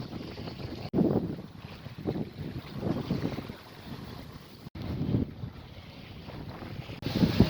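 A sailboat under full canvas runs in a breeze blowing off the land, with steady wind buffeting the microphone over a low rush of water along the hull. Short dips in the noise break it up, and no one speaks.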